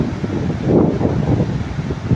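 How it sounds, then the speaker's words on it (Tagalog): Strong wind gusts across an open beach resort shoreline, a loud, steady roar of rushing air buffeting the microphone, swelling slightly midway and continuing without pause, alone with no voices. "ang lakas na ng hangin"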